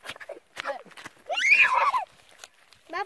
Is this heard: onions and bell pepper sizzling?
no